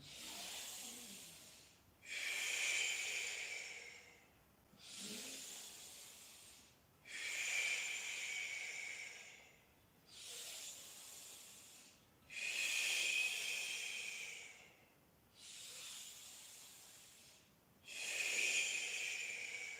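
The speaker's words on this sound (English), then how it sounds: "Let's take a deeper breath in and sigh to drop any intensity, lighten up. And let's go, breathing in." Slow, deep breaths drawn in during a guided breathing exercise, each a soft airy inhalation lasting about two seconds, repeated evenly with quiet gaps, close and faint, with no talking.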